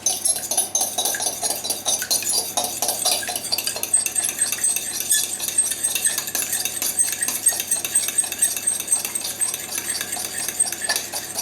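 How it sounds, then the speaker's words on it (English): Eggs whisked in a bowl for a lemon drizzle cake, giving a steady, rapid clinking and scraping of utensil against bowl that runs close and continuous with no voices. "once you've beaten your eggs, you can add them gradually to your flour and sugar mix"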